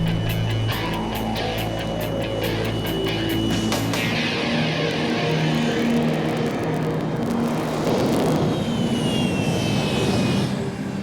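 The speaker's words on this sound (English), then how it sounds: "these jet engines still pack a punch" Jet engines roar and blast jet wash across a taxi cab, moving from a loud, deep engine rumble into a harsh, broadband rushing blast that holds for several seconds.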